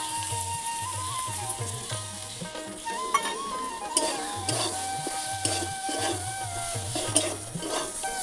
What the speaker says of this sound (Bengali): এখানে যে মশলাগুলো আমি বলছি সেই মশলাগুলো দিয়ে দিচ্ছি আমি।